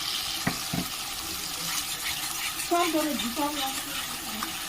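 Tomato masala with ginger paste and green chili paste fries in a pan under a steady, dense sizzle, with a couple of stirring knocks early on and some faint tonal squeaks over the hiss.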